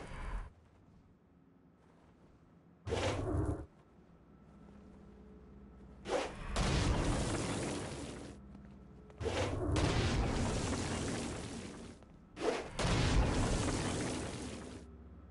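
Stone Blast explosions from the video game Saints Row: Gat out of Hell, fired at flying demons: four loud, booming whooshes, some short and some drawn out over a couple of seconds, separated by quieter gaps.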